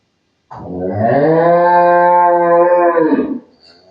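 Close, loud single moo from a dairy cow, one sustained bellow lasting about three seconds, with no talk over it.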